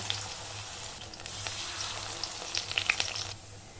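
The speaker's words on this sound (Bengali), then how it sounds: "একই রকমভাবে বাকি বড়াগুলো ভেজে নেব" Fritters made from bok (sesbania) flowers fry in hot oil in a wok, giving a steady, moderately loud crackling sizzle with scattered sharper pops, and no voices.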